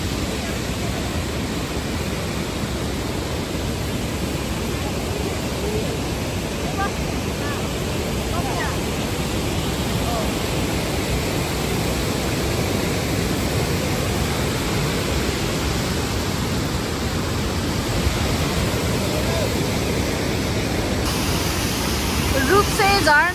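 A waterfall roars as a steady, dense wash of broadband rushing water, loud and continuous throughout, with no pauses and only slight swells in level.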